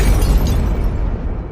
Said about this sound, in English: The explosion tore through the crowd